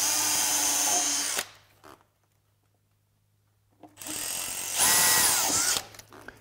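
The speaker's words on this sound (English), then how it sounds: "What I'm gonna do now is drill a pilot hole for those." A power drill whirs in two bursts separated by about two seconds of near silence, the second burst louder and higher-pitched as it bites in, drilling a pilot hole while mounting a fish finder.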